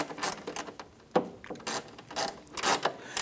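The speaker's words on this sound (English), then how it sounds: "Go ahead and tighten down our upper 10mm bolt here." A ratchet tightens the upper 10mm bolt on a Ram 1500 headlight mounting bracket, giving quiet clicking strokes in short irregular bursts with small metallic ticks in between, up close and alone.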